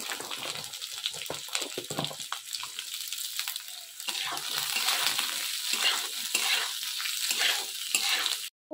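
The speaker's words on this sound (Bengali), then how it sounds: "কাঁচা লঙ্কাটা একটু ফ্রাই হয়ে যাওয়ার পর আমি এখানে কেটে রাখা পেঁয়াজ আর ক্যাপসিকামটাকেও দিয়ে দিয়েছিলাম।" Onion and capsicum stir-fry in hot oil with green chilli for dry chilli chicken, a continuous close hiss of frying that grows denser midway, with stirring throughout and an abrupt stop at the end.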